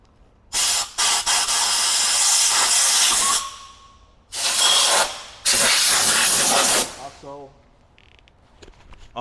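Compressed air blasts rust and grit off the brakes of a 2020 Ford F450, two long loud hissing bursts with short taps between them, close by and with no talk.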